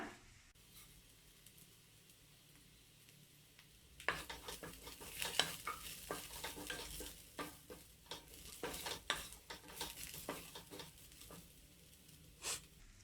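Chili flakes stirred into sautéing mushrooms in a pan for a mushroom and spring onion stir-fry, a steady close sizzle broken by a run of scraping, clattering stirs that grow busier partway through.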